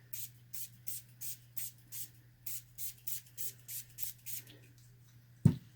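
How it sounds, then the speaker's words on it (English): A spray bottle spritzes fresh tea tree and activated charcoal soap bars, about a dozen short even misting puffs in a steady rhythm, close and soft, ending with a sharp knock. "So we'll give them a little spritz."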